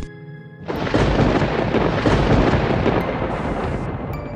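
Loud thunderclap from a lightning strike in a Filipino animated cartoon, bursting in after a brief quiet start and rolling on as a dense, sustained rumble with no speech.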